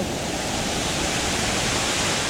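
Dense, steady roar of a jungle waterfall beside the Moei River in Karen State, heavy water crashing continuously and loudly close by, with no voices.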